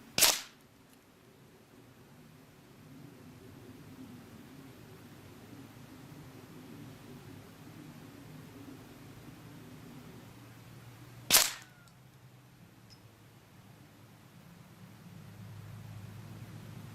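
FX Independence air rifle firing a single pellet at a 50-yard target outdoors: a sharp crack at the start, a quiet background hiss, then a second sharp crack around eleven seconds, with low ambient rumble between.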